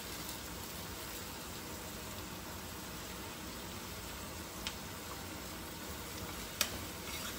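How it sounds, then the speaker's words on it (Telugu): Green chillies and curry leaves frying for an egg curry make a soft, steady hiss with a couple of faint clicks from the pan, heard quietly at a distance. "కలుపుకొని ఇలా పచ్చిమిరపకాయలు, అట్లనే కరివేపాకు కూడా వేసుకుందాం."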